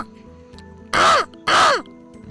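A man gives a vocal imitation of a crow's caw: two loud, harsh, drawn-out calls about half a second each, separated by a short pause, in a quiet indoor interview setting.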